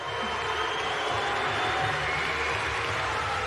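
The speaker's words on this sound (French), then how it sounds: "on va quand même l'applaudir avant qu'il sorte de la cage" A crowd at a cage fighting event applauds and roars in a loud, continuous wash of noise that stays dense throughout.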